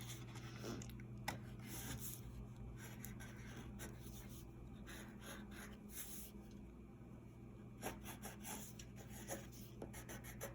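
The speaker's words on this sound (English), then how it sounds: "Maybe I'll use a crayon to write it" A crayon is drawn across a paper card for a handmade greeting, giving faint, soft scratchy strokes in an irregular rhythm that stays quiet and close, with no voices.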